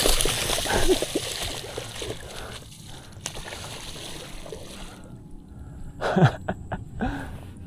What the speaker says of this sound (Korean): 물 튄다